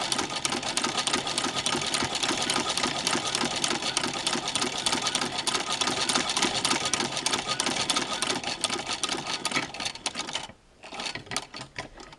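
Singer 15-88 sewing machine fitted with a zigzagger, stitching fabric in a rapid steady mechanical chatter for about ten seconds before slowing and stopping near the end, close and alone.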